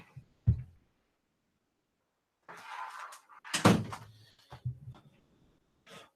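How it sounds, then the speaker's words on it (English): A door being pushed shut indoors gives a single solid thud, with a little rustling movement and a few softer bumps around it, fairly close and with no one talking. "I better go shut my door."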